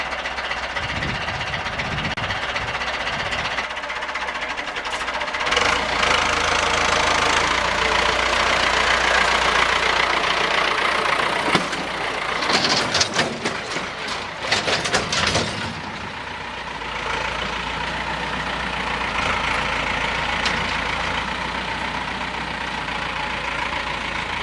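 The engine of a company car runs at idle, a steady low rumble heard close throughout, with a stretch of rattling and clunking bursts midway before settling back to the even drone.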